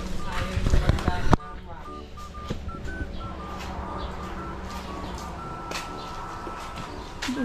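A cellphone emits a run of short electronic beeps at varying pitches, tapping along steadily after a loud rustling bump, with outdoor background noise underneath.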